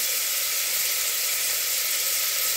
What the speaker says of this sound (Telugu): ఇది బాగా ఫ్రై అవ్వాలి. అప్పుడు మంచి ఫ్లేవర్ వస్తుంది మనకి అల్లం వెల్లుల్లి పేస్ట్ చేయడం వల్ల.